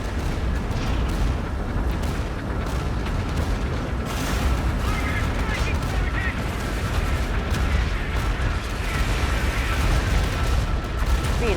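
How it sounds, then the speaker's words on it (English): Army units in Tom Clancy's EndWar trading heavy gunfire and artillery, heard as a dense, continuous barrage of shots and booms, loud throughout, with radio voices talking over the battle. "Opening fire."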